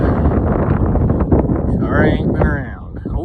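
Strong wind buffeting the microphone on an open farm field in Fulton, Pennsylvania, a loud continuous rumble and roar with someone talking over it.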